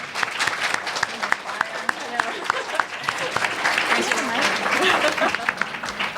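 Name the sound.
audience applause at a book event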